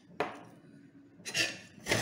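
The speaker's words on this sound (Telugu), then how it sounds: "కొబ్బరిని ఇట్లా ముక్కలుగా చేసుకుని క్లీన్ చేసుకున్న తర్వాత" Fresh coconut is cut into pieces with a knife for a coconut and chana dal dish, making three sharp, close chops spaced apart, the last two heavier, in an otherwise quiet kitchen.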